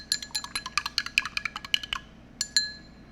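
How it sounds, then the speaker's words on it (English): A spoon stirs glitter iced tea in a glass, producing a quick run of bright clinks and taps against the glass, then a pause and two final clinks, close and clear with no talk. "Let's get our stirring back up here to incorporate it."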